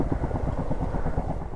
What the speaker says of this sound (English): there's another helicopter coming in